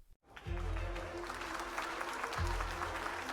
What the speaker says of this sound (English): Applause surged.